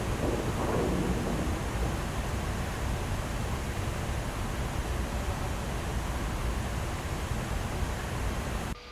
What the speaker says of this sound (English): I can hear a bit of thunder and lightning below us.